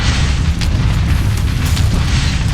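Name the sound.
ship weapon shot hitting enemy grav drive, Starfield video game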